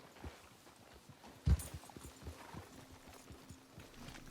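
Soft, rhythmic horse hoof clip-clops in the video game Red Dead Redemption 2, with a sharp thump partway through and a faint whinny, fairly quiet and close.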